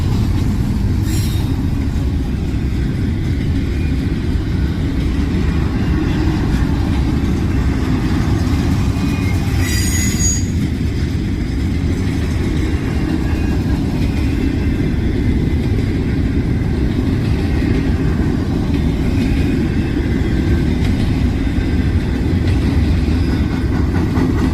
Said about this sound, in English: The Last Amtrak Capitol Limited.